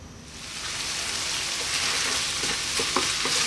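Lentil curry sizzles and bubbles in a pan over high heat, a steady close frying hiss broken by brief spatters and stirring scrapes, with no talking.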